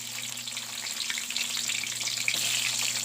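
Tofu frying in a pan gives off a steady, close sizzle of crackling oil that swells slightly over a few seconds, with no voices.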